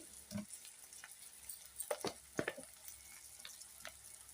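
Small eggs frying in a pan with spices, a soft crackling sizzle broken by a few sharper pops and spits, close and fairly quiet, with no voices.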